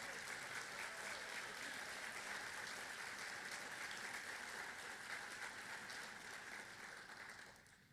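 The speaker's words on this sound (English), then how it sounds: "Please give them a round of applause." Sustained applause from a symposium audience fills the room, thick and even for several seconds before gradually tapering off at the close.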